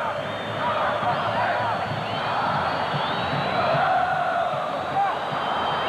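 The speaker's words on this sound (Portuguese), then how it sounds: "Aí a torcida do São Paulo." São Paulo supporters at a 1993 Copa Libertadores match against Flamengo, a continuous roar of crowd chanting filling the stadium, steady and distant, under the voice of a match commentator.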